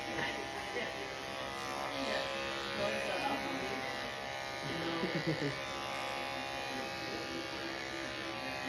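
Electric clippers shave an animal's abdomen before surgery, giving a steady close buzzing hum that runs throughout under a person talking.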